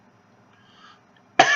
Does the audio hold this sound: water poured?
no